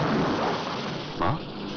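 Steady rain falls as a dense wash of hiss, with a brief louder rumble partway through; no voices.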